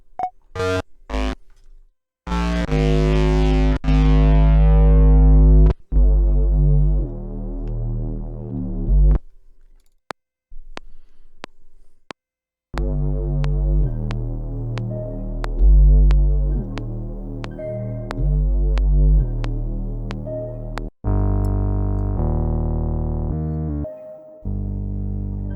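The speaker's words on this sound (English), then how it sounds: "let's use the synth for a bass" A Korg Minilogue synthesizer plays a thick, buzzing bass line in a beat-making session, with loud sustained and stabbing notes, some gliding downward, broken by short silent gaps, and no voices.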